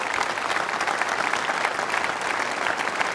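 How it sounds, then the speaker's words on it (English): Studio audience at a Weber Cup 2012 bowling event applauds the team captains, a dense, continuous clapping from a large crowd with no speech over it. "give him a massive round of applause"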